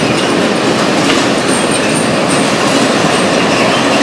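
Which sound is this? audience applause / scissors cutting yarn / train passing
train passing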